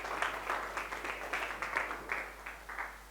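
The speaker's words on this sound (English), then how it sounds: "Give him a big round of applause, ladies and gentlemen" A small audience at a live sommelier competition broadcast in South Africa claps in uneven bursts, the applause fairly faint and thin with separate hand claps standing out.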